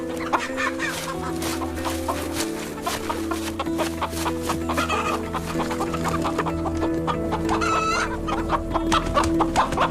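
A flock of chickens clucking steadily up close, with layered overlapping calls and occasional louder squawks over a constant farmyard background.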